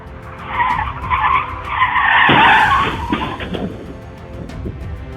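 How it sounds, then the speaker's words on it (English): A car skids hard with a loud sustained tire screech during a collision between two vehicles on a highway side road in Tundla, India, rising to a peak and then fading into road noise. "A collision between two vehicles occurred on a side road of a highway in Tundla, India"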